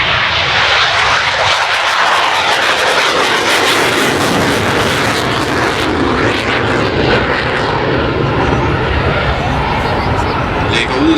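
Saab Gripen fighter jet climbing away with afterburner lit at a Danish airshow, a loud continuous roar filling the whole stretch with steady broadband rumble, with an announcer talking over it.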